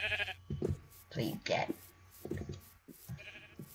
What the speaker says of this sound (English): Don't ask why I was talking to a sheep.